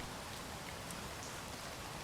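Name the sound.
rain in the video game Space Engineers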